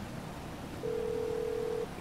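A steady electronic phone tone from GTA V plays alone for about a second, cleanly sustained at moderate level over faint background noise.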